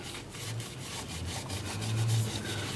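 Steady abrasive rubbing of sandpaper against a maple crotch bowl spinning on a wood lathe, a continuous close hiss with a low motor hum beneath and faint rhythmic pulses from the turning wood.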